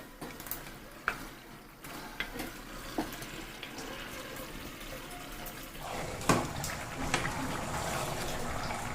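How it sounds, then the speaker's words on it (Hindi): Fried chicken pieces drop into cooked masala in a pan and start to sizzle, a steady frying hiss with a few knocks and stirring scrapes, and a sharp splash-like burst of sizzle about two-thirds through. "अब इसमें मैं ये फ्राई किया हुआ चिकन डाल दूंगी।"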